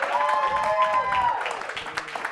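A comedy show audience cheers and claps together in a dense, loud wash of crowd noise, with a whooping voice rising above it before the noise eases slightly.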